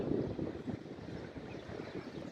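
Gusty wind in Oklahoma buffets the microphone with low rumbling, uneven bursts, close and moderately loud.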